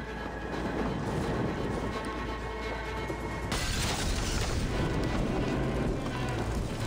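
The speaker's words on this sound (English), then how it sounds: "Oh, he's setting on fire." An enemy set ablaze in Assassin's Creed Valhalla, a dense, steady roar of fire noise that swells louder about halfway through and keeps rumbling without a break.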